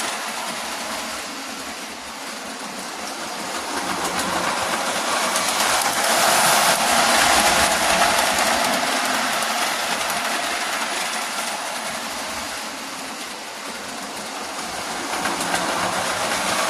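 A Lionel Alco FA O-gauge diesel model train runs on track, a steady close rolling rumble with faint clickety-clack that swells louder in the middle as it passes, then eases off again.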